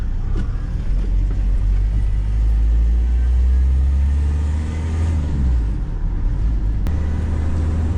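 Engine note of a 2003 Fiat Doblo 1.9 diesel while driving, a steady low rumble heard from inside the cabin, holding even with a slight swell midway and no talk over it.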